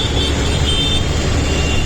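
Continuous close road noise of city traffic in Surat, with engines rumbling and a faint high tonal whine, a dense wash of passing vehicles.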